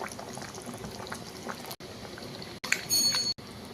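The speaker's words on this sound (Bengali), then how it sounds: "ঝোলটা ফুটে উঠেছে" Steady bubbling of a fish curry broth boiling in a pot on the stove, with brief gaps and a few faint clinks near the end; no voices.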